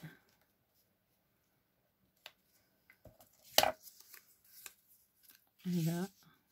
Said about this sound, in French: je vais couper une bannière